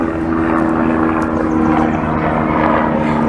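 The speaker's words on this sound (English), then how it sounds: "Oh, helicopter going overhead." A helicopter passes overhead with a loud, steady rotor and engine drone that holds for the whole stretch, rather close to the ground.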